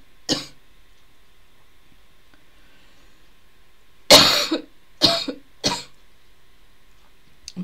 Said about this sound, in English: I knew I wasn't going to stop coughing